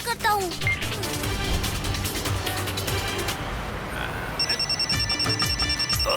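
A phone rings unanswered in a repeating high electronic trill that comes through near the end, over a busy, noisy mix with a car and clatter, with no clear talk.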